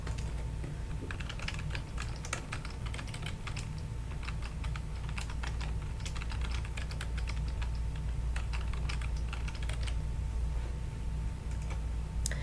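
Continuous keystrokes on a computer keyboard as login credentials are entered, a steady run of light clicks held close over a constant low hum, with no talking.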